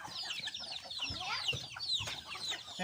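Basilan breed chickens cluck and chatter close by, a busy run of short, overlapping calls with no break.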